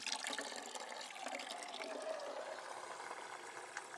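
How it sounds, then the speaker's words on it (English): Water swirls and gurgles steadily at the inlet port of a vortex catfish aquaculture tank in a swimming pool, with air being sucked in; a continuous, fairly close splashing wash runs throughout with no talking. "there's the inlet port, sucking a little air."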